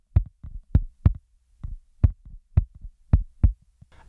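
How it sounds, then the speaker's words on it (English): Punchy low thumps from a DIY stomp box foot drum processed with EQ and compression, tighter and fuller, hitting in a steady groove with short gaps between beats. "a little EQ and some compression and it can sound like this"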